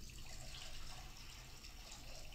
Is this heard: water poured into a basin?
yes